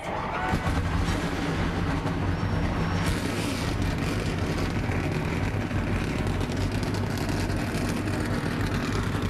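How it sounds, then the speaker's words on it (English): ARCA stock car engines fire up at Michigan, a dense, loud mechanical roar that holds steady over several seconds with no talking. "The engines are fired up."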